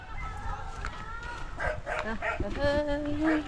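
A few short dog barks and yips ring out close by, mixed in with people talking over a steady background.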